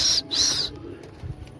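Pigeons at a Gujarati kabutarbazi pigeon-flying session: two high, drawn-out calls in quick succession, then a faint low rumble and soft fluttering in the background.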